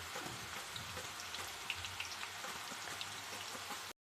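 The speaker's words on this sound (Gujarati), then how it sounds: "આપણે અહીં ડાયરેક્ટ તેલમાં પાડીએ છીએ એટલે તેલ ઉછળીને બહાર ના આવે એનું બહુ ધ્યાન રાખવાનું." Raw banana slices for wafers fry in hot oil with a dense, even crackle and spatter like steady rain, continuing at constant loudness until it cuts off abruptly, with no voices.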